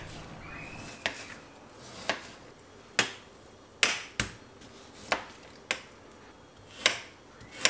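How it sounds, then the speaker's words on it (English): Half-thawed chicken is cut into small cubes on a board, about ten sharp knife chops spaced roughly a second apart, close and crisp with no talking. "quickly catch that piece and going to cut it into small cubes."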